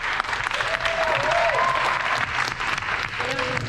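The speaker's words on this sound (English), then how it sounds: "give yourselves a round of applause" Trade school students at a build site clap for themselves after finishing work, a loud sustained burst of applause with a few voices talking and calling out underneath.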